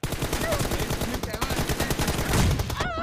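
Dense rapid gunfire from a mobile shooter game in a team deathmatch fight, with continuous bursts close and loud throughout.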